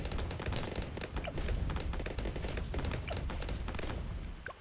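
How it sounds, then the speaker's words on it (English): Rapid cluster bomb explosions in the tower defense game Bloons TD 6, a dense continuous barrage of overlapping bursts and thuds that stays loud throughout. "Cluster bombs."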